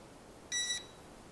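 A short electronic beep from an HR H9 camera drone, about a quarter second long, clear and high-pitched against quiet background hiss.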